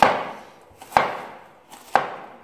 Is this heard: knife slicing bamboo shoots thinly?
yes